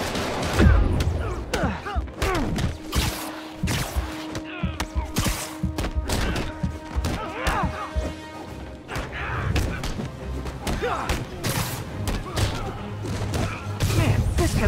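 Bursts of gunfire from Fisk's thugs in a Spider-Man game fight, sharp repeated shots mixed with heavy thuds and crashes in an irregular, busy rhythm, loud and close, with occasional speech between.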